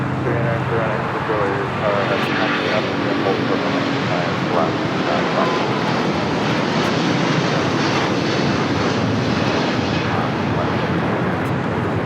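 Asiana Airlines jet airliner at LAX: a continuous, loud engine roar that holds steady throughout, with a voice talking underneath at points.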